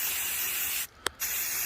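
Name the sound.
spray paint being sprayed onto anthill casting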